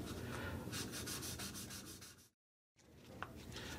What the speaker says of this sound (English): We're going to sand that area with the 1000 grit paper or 800 grit paper